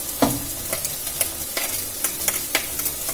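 A spoonful of frozen tomato paste stirred into a frying pan for crab masala, soft sizzling broken by a few scraping strokes of the spoon, quiet and close with no talk.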